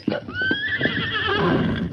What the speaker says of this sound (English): Tonto's paint horse Scout seemed to know exactly where he was going